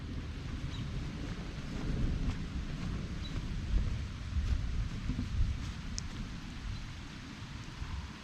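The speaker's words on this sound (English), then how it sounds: "Got a substantial downpour." Heavy rain pouring down steadily, a dense hiss with low rumbling underneath, fairly faint and distant-sounding, no talking.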